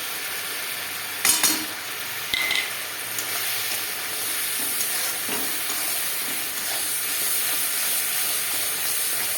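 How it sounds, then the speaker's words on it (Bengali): Ground spices fry in a pan after garlic, with a constant close sizzle and hiss plus a couple of sharp clanks from stirring near the start, steady and without talking. "মশলাটা একটু ভাজা ভাজা করে নেবো"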